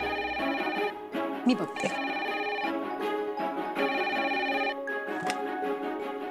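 A telephone rings indoors in a home scene, a repeating electronic tone pattern running steadily throughout, with a short spoken line over it.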